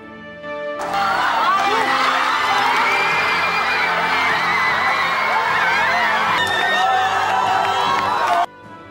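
Korean football fans at the 2002 World Cup erupt in a loud, sustained roar of cheering and whooping after a goal, a dense crowd sound filling nearly the whole stretch before cutting off abruptly.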